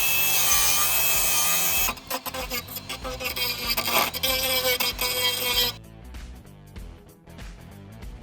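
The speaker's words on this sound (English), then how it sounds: "we can get his grinder in and his Dremel tool so we can clean all areas up" An angle grinder and a Dremel rotary tool grind out rusted body areas on a Mercedes 190E salvage car. A loud, steady, high grinding whine runs first, then gives way to choppier, uneven abrasive bursts that ease off toward the end.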